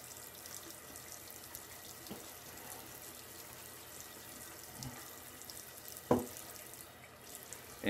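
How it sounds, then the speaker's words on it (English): Water runs from a tap into a sink in a steady, moderate rush, with a brief clunk partway through, while someone tops up water during wet shaving. "A little more water in here."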